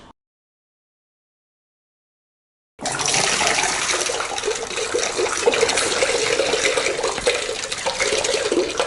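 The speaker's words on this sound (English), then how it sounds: "it took only 7 seconds to empty the water from the bottle into the vessel" Water gushes steadily out of a twisted, shaken bottle into a vessel in a home chemistry experiment. The pour is loud and continuous, starting abruptly after near silence and running on without a break.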